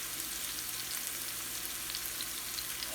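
Carrots, peas and green onion fry in a pan with a steady, close, broadband sizzle that holds evenly for the whole stretch, with no talking.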